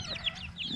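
Native Filipino chicken, a fighting-cock type, clucking close by in a rural yard, with short repeated high chirpy calls over a low rumble of background noise.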